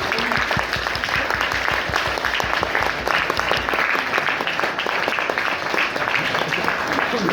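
An audience at a talk on Vivekananda's life breaks into loud, dense applause that carries on steadily for several seconds, crisp hand claps filling the room throughout.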